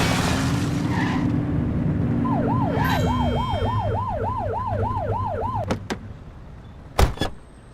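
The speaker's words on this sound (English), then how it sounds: "Get behind them and flip the siren to make them pull over." Police car siren in the video game The Precinct, a rapid rising-and-falling wail cycling steadily and close, followed by a couple of sharp thuds like a car door.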